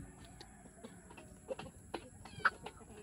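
Soft, scattered clucking from free-range chickens nearby, including a Black Marans hen, a few short calls over a quiet farmyard hum.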